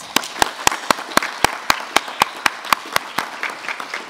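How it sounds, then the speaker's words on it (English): Slow, sharp claps ring out one at a time in an even rhythm at a school Honor Society induction ceremony, sounding like a single clapper or a sparse group, close and distinct over faint murmuring. "please join me once again in applauding all of our new Honor Society members"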